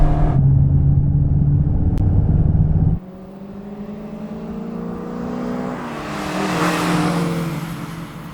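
A VW Golf GTI 16-valve engine pulling hard, a loud close drone that cuts abruptly midway, followed by a more distant rising engine note from another car accelerating past.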